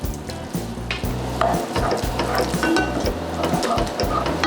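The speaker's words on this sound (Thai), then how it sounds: "ใส่ น้ำยำลงไปเลย" Glass noodles being stirred and tossed with a Thai spicy salad dressing in a pan, giving a steady wet clatter and scraping that carries through the whole stretch, close by, with no talking.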